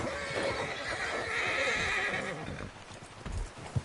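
A horse in the video game Red Dead Redemption 2 whinnies and snorts amid hoofbeats and outdoor ambience, the neigh stretching for a couple of seconds before fading into scattered rustling and thumps.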